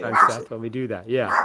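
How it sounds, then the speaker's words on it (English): Excited dogs bark and yip indoors in a few quick, close calls mixed in with people talking over them. "Sorry about the dogs barking."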